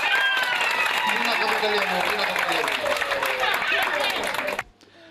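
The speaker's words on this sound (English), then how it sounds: "Let's all clap our hands." Audience clapping at a Fiji Day celebration at Sunshine Special School, heard amid lively crowd chatter and raised voices, then cut off abruptly near the end.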